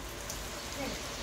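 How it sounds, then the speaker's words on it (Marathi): Rain falling outside a house during wedding preparations, a steady even hiss of drops on surfaces, soft and continuous, with faint voices in the background. "पाऊस लागता आत्ताचा"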